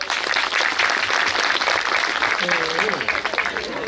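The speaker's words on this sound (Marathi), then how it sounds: "तुम्ही लोक एकदा सर्व मंडळींसाठी टाळी वाजवा बरं" A crowd claps for the attendees at a Navnath Baba saptah, a rural Marathi religious gathering, in a dense, loud burst of applause lasting several seconds, with voices talking over it toward the end.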